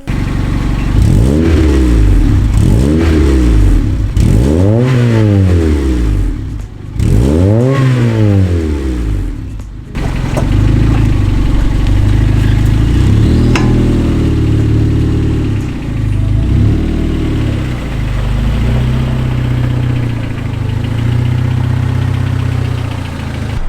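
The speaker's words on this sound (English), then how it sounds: "start the car, rev it up a little bit" A car engine close by starts and revs hard several times in rising and falling sweeps, then settles into a loud, steady idle with a few small blips.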